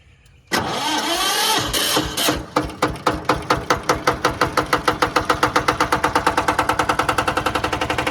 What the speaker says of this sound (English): reach down in the engine compartment here, turn the fuel on, make sure it's in neutral, right there, and then just turn the key.